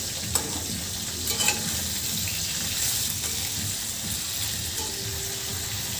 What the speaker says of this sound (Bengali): তেলটা যেহেতু গরম হয়ে গেছে মাছগুলো ছেড়ে দিলাম।